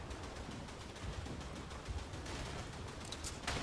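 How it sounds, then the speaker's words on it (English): Steady bursts of rapid gunfire crackle continuously, dense and loud, with sharper shots near the end, in a World War I PC video game. "There's a guy with gunfire there."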